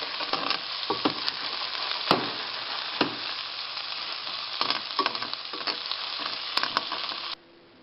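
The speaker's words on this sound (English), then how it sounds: "now we've added a little bit more olive oil, and we've lined the pan with our potatoes" Potato slices lining a pan fry in olive oil with a continuous bright, close sizzle broken by occasional stirring scrapes and small clicks, with no talking, until the sound cuts off abruptly near the end.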